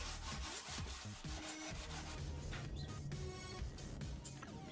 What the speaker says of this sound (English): Sand the edges of the box with a block sander or a belt sander to make sure they're all level